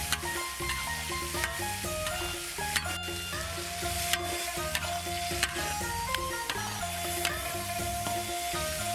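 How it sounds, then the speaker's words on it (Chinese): Chicken kidneys stir-frying with pickled peppers in a hot wok give a loud, steady sizzle, with recurring sharp clanks and scrapes as the spatula tosses the pieces throughout. "鸡腰子下进去，给炒一会"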